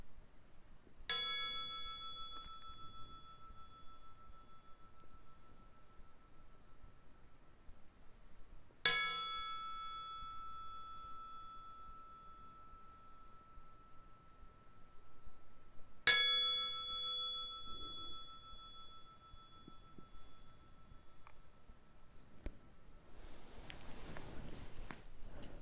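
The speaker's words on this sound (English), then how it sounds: "when I ring the bell 3 times, we can come out of meditation" A meditation bell at Newbury Buddhist Monastery is struck three times, each clear ring spaced several seconds apart and decaying slowly into a quiet room, with no talk.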